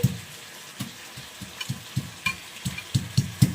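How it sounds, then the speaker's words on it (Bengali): Boiled elephant foot yam being mashed by hand gives soft, dull squelching thumps, roughly a dozen irregular presses growing a little louder and closer together toward the end. "ওল কচুকে এইভাবে আমি থেতো করে নিচ্ছি"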